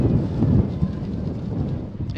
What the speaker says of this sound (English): If it sounds windy, it's because it is.